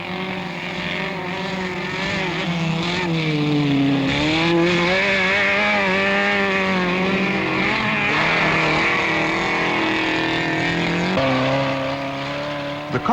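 A 1970s saloon car races an autocross course on loose ground. Its engine roars loud and close without a break, the pitch rising and falling as the driver works through the gears and corners.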